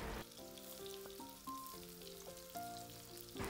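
Kebabs fry in oil with a steady, close sizzling hiss that lasts the whole clip under a louder melodic music bed; no one speaks.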